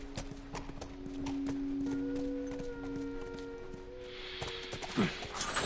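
Horse hooves clip-clop at a walking pace in The Last of Us, a steady run of soft, evenly spaced hoofbeats over quiet ambience, with a brief whinny-like sound near the end.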